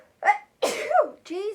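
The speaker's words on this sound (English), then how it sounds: "I'm going to sneeze" A woman makes a few sharp vocal bursts, a sneeze with a breathy build-up and a following voiced sound, close to the microphone during a makeup Q&A.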